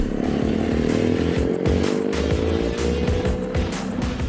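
2018 SWM Super Dual 650 T motorcycle ridden on off-road tracks, its single-cylinder engine revving hard and loud with rhythmic throttle pulses and shifting pitch throughout.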